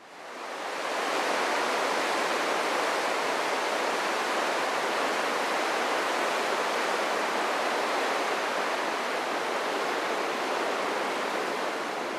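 Tidal horizontal waterfall at Talbot Bay, Australia, where seawater surges through a narrow gorge: a steady, broad roar of rushing water, loud and constant throughout with no voices.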